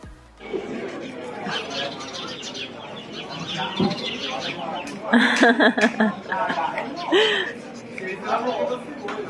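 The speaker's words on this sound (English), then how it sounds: "the birds are fighting" Birds chirp and squawk noisily as if squabbling, sharp calls rising over a busy outdoor background with people chatting nearby, in Sirmione on Lake Garda, Italy.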